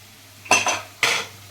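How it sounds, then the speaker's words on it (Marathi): Cooked pav bhaji vegetables being mashed inside a pressure cooker with a metal tumbler: three distinct metallic clanks against the pot, close and fairly loud, separated by quiet pauses. "तर आता ही स्नॅश करून घेते भाजी मी"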